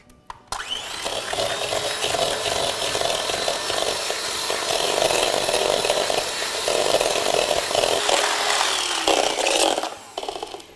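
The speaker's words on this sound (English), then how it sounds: "now you can whisk until you get a really nice and creamy consistency" A whisk or electric mixer beats egg yolks with sugar for tiramisu, a continuous buzzing whir with brief breaks, loud and close, with no voices.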